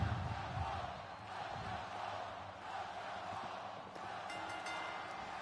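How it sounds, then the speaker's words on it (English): In the WWE 2K23 video game, a crowd at an NXT wrestling match waits for the bout to begin, producing a steady, distant murmur with a few faint shouts. "Crowd in attendance waiting eagerly for this match to start."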